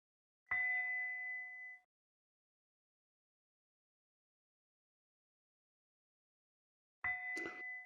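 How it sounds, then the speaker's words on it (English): A meditation bell rings at a gathering, two clear single strikes about six seconds apart, each with a bright ringing tone that decays in a quiet room. "At the sound of the bell, the next person can come in."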